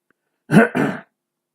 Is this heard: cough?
yes